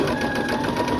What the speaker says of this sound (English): And now I'm going to put my foot on the foot pedal